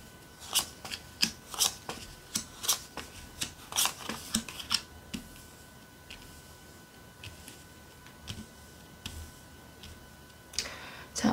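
Tarot cards being shuffled by hand at close range, a run of crisp riffling and slapping bursts that thin out midway, then a few soft card taps and one last flurry.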